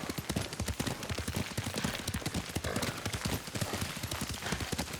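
Horse hooves clatter in a fast, steady galloping rhythm while riding in the Ghost of Tsushima video game, loud and continuous throughout with faint voices underneath.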